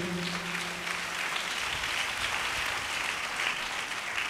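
A church congregation claps loudly and steadily together, a dense, continuous wash of applause filling the room from start to finish.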